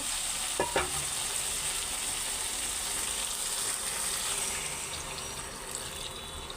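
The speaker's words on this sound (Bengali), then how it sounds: "তরকারিটা কষানো শেষ, তো এর মধ্যে এখন অল্প একটু ভাজা রাখা ফুলকপি আর মাছটাও দিয়ে দিব" Fried cauliflower and fish dropped into a curry that has just finished frying down, giving a steady close sizzle with a few stirring clinks near the start and no voices.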